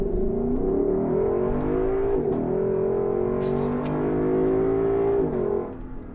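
A Lexus LC500 Convertible's V8 engine revs loud and close, a rich sustained growl rising and falling in pitch through several gear changes, with no talking.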